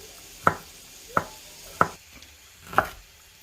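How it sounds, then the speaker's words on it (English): A knife chops garlic into small pieces on a board in a home kitchen, four sharp separate knocks spaced unevenly about a second apart, close and fairly loud with quiet between. "So now I need garlic, so just cut little bit small pieces like this."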